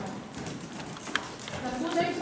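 Horse hooves clip-clop at a walk during a riding lesson, moderately close, while an instructor talks over them.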